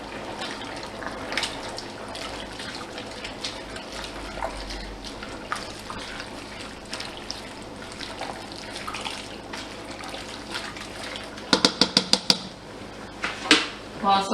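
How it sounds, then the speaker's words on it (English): Cabbage soup made with canned ingredients and chicken broth is stirred in a pot, giving soft liquid sloshing and repeated clinks and scrapes of a utensil against the pot, with sharper knocks near the end. "And now I'm just going to stir it up."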